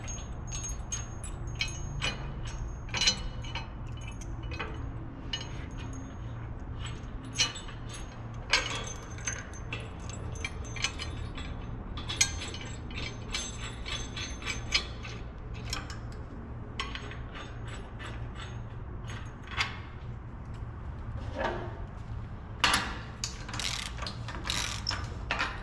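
Bolts removed and reinstalled on a Combi bracket with hand tools, giving a steady run of close metallic ratcheting clicks and small clanks over a low constant hum, with sharper bursts scattered throughout.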